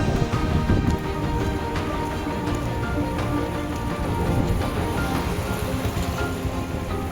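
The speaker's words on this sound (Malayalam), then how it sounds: "ഇവിടെ മഴ തുടങ്ങിയോണ്ടേ" Steady rain patters on surfaces, a dense continuous hiss with scattered drops, no voices present.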